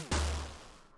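Explosion in the Colosseum of Old School RuneScape, a single loud boom with a sharp onset and a deep low rumble that decays slowly over about a second, with no talking.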